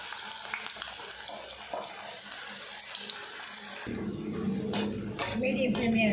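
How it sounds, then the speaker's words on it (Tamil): Small mushroom balls for road-side kalan drop into hot oil and deep-fry, a constant crackling hiss with a voice talking over it in the second half. "இது சின்ன சின்ன உருண்டைகளாக நம்ம எண்ணெயில் போட்டு எடுத்துக்கலாம்"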